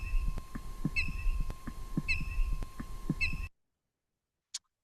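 Chickadee alarm calls given in response to a coyote, played back as a recording: repeated sharp high chirps with buzzy notes in a regular rhythm over a low throbbing hum, then a pause and one short high note.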